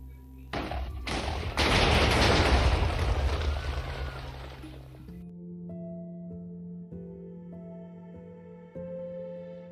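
A staged explosion at a marathon bridge in a drama erupts as a sharp blast and dense crackling burst, loud and sustained for several seconds, then gives way to a steady low sustained musical drone.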